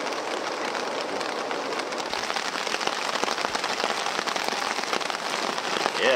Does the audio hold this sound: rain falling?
yes